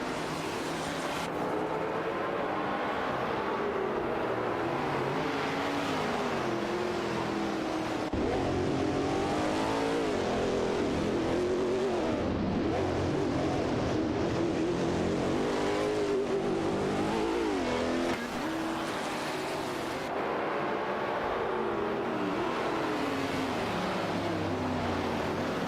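Race car engines roar continuously through a video game race, several cars revving and accelerating with overlapping engine whine that rises and falls as they jostle for position, loud and steady with no talk.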